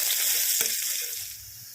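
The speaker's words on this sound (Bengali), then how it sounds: "পেঁয়াজটাকে লাল লাল করে ভেজে নিতে হবে" Chopped onion frying in hot oil in a wok makes a loud, continuous crackling sizzle with a brief stir in the middle, then eases slightly toward the end.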